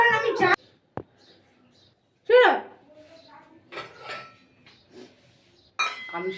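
Glass dishes being handled in a home kitchen give a few brief, bright clinks, the sharpest at the start, while voices talk nearby through the rest.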